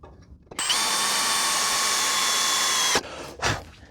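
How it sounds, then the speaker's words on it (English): A power drill bites straight through metal to a 10 mm hole for a race-car pedal box install, a loud, steady high whine lasting over two seconds, then a short second burst. "I'll drill straight through to 10 mil."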